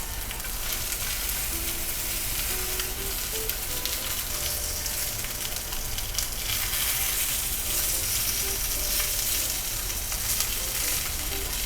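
Rack of lamb, a thick three-rib piece, sears in a hot pan on the stove. A steady, dense sizzle and crackle of fat fills the whole stretch at even loudness, with no voices.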